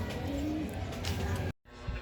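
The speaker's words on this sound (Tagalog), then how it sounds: "Dumating yung ibon natin." A racing pigeon returning from a 389 km derby race coos softly with a brief low call, over faint background voices and ambient noise.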